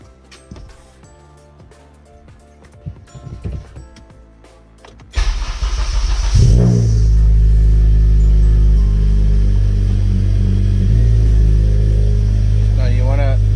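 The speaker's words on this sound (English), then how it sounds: "We haven't started the car in a little while, but we're gonna start the car and get this process going" An Acura ILX engine cranks and catches about five seconds in, then settles into a loud, steady idle close by, after some quieter interior sounds and movement.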